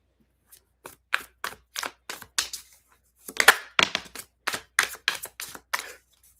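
Tarot cards shuffled by hand during a reading, a run of short crisp riffling bursts with a louder cluster midway, close and fairly quiet, no talking.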